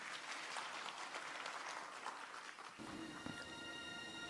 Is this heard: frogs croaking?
no